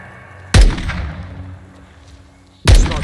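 Call of Duty Modern Warfare II campaign gunfire: two loud, sharp shots spaced about two seconds apart, each with a booming low tail that rings out and decays between them.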